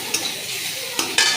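Ginger garlic paste fries among browned onions in a hot pan, giving a soft steady sizzle broken by a few quick scraping stirs, close and fairly quiet.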